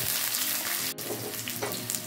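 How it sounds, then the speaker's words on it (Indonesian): Oil sizzles and crackles steadily as spice paste fries in a pan, with a brief stir interrupting the hiss partway through. "Kemudian kita panaskan sedikit minyak dan kita goreng sebentar bumbunya."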